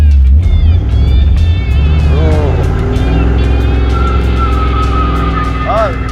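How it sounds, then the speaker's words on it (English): A beater car doing a two-tire burnout roars loudly and close throughout, its engine pitch rising and falling as it revs hard, with voices over the noise. "Two-tire burnout?"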